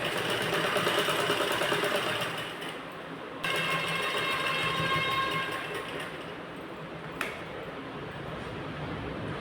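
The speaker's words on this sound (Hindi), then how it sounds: "अब हम इसको यहाँ से रख करके इस तरह से अटैच करते जाएंगे, एक सिलाई लगाते जाएंगे" A sewing machine runs steadily, stitching piping onto a blouse with a continuous rapid mechanical whir that briefly slows and dips before resuming at full speed.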